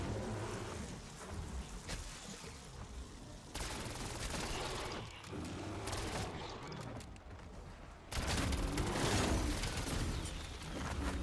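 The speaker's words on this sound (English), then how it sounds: "Nope, that's a cluster grenade." Cluster grenade blasts in Black Ops 7 Zombies, a rapid chain of loud, dense explosions that crackle like gunfire and keep going across the whole stretch, with a heavier burst near the end.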